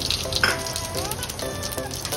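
Cumin seeds and asafoetida sizzle in hot oil at the start of a bhindi (okra) dish, a soft, steady crackling fry heard close, with faint tonal sounds above it.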